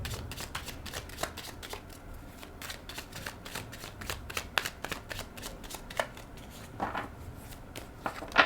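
Tarot cards being shuffled by hand during a reading, a steady run of dense riffling flicks and slaps, close and fairly loud, with no talk over it.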